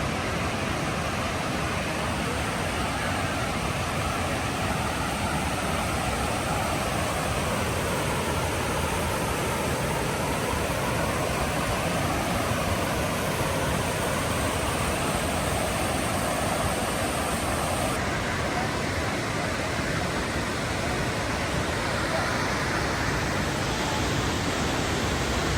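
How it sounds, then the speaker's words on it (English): A waterfall in Norway roars steadily as a dense, unbroken rush of falling water, loud and close and continuous throughout with no voices. "waterfall."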